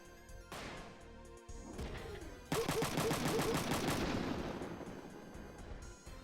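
Rapid gunfire bursts from a shooter video game, loud and close, starting partway through after a quieter stretch and rattling on in dense repeated shots that slowly fade.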